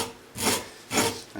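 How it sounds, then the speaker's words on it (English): A file rasps twice across a dimple lock pick clamped in a vise, two steady strokes close by with brief pauses between them and no talking. "I just need to just file that a little bit off"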